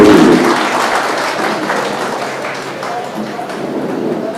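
A crowd gives steady, dense applause at an honoring ceremony. The clapping fills the whole stretch at an even, fairly loud level and never stops.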